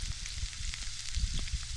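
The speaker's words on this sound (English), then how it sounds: "The steak is in there cooking away." Steak sizzles in a frying pan over a camp stove at a sub-zero wild camp. The brief, fairly soft crackle has low dull thumps underneath and no voices.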